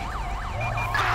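An emergency vehicle siren wails in GTA 5, its rising and falling sweeps repeating rapidly and loudly over a low engine rumble.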